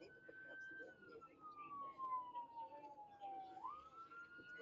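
An ambulance siren wails in slow rising and falling sweeps while stuck in traffic, fairly clear over a steady road rumble, with no talk heard.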